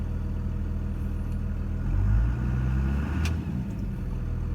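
A Cummins diesel truck engine idles with a low rumble, then rises in pitch and loudness as the gas is pressed and settles back down, close and steady with no speech.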